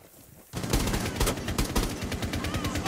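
Rapid automatic gunfire from a video game fills the clip, starting abruptly after a brief quiet moment and continuing as dense, loud repeated bursts.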